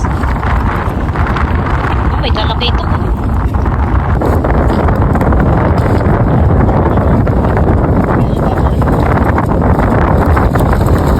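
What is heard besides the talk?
strong wind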